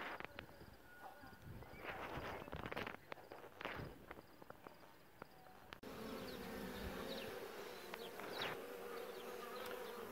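A honeybee swarm nesting inside a wall gives off a steady, continuous buzz, with individual bees droning close by and occasional soft knocks and scuffs.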